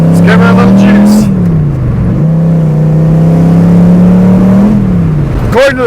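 A Pontiac Fiero swapped with a Corvette V8 engine revs and accelerates from inside the car, a loud steady droning engine tone climbing in pitch, dipping at a gear change, then rising again before easing off.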